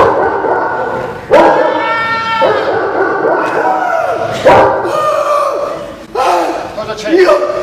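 A dog barks loudly and close by in repeated sharp bursts roughly every one to two seconds, with people talking and a short chuckle over it in an Italian stage comedy.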